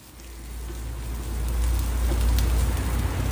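Ripe chopped tomatoes sizzling in a hot pan with onions, a steady crackling hiss that builds slightly louder and stays close and continuous, with no talking.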